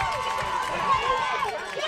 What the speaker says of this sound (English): The St. Joe's faithful are standing and cheering